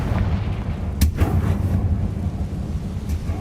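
A Confringo spell blasts in Hogwarts Legacy: a sharp crack lands over a dense, rumbling roar of game sound that continues loud throughout.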